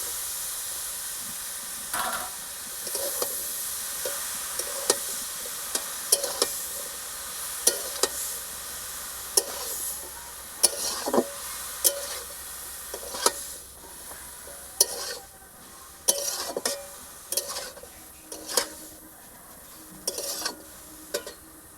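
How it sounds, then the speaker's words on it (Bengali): Pumpkin leaves are stir-fried in a pan for a prawn dish, with a constant sizzling hiss broken by repeated sharp scrapes and clinks of a spatula against the pan, recurring every second or so, close and alone. "এবার ঢেলে দেবো কুমড়ো শাকটা।"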